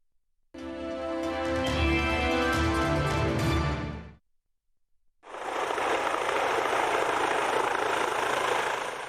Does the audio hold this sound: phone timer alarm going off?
no